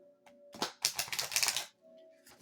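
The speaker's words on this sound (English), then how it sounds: "I'm going to go ahead and start shuffling" Tarot cards being shuffled, a few sharp flicks followed by a dense riffling burst lasting about a second, close and fairly loud against a quiet background.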